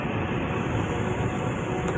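A train passes a railway crossing, giving a continuous, close rolling rumble and wheel noise at an even loudness with no voices.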